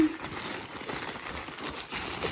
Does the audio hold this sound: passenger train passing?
no